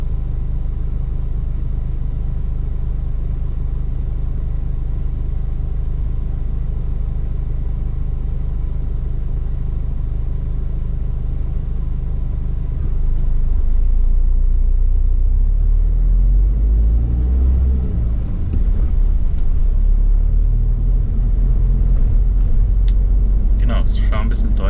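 A car on a driving-lesson route with its engine giving a low, steady rumble from inside the cabin that thickens partway through as it pulls away, under ongoing talk.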